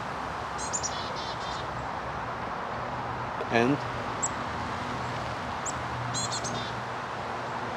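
Small birds chirp in short, sparse bursts over a quiet outdoor background, with one brief louder call in the middle; a voice speaks briefly.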